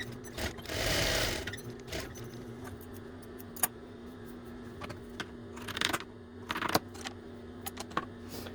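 A sewing machine stitches the bottom seam of a fabric drawstring bag, running in short, quiet bursts with pauses for backstitching, plus small clicks and handling sounds in between.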